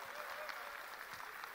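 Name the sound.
applause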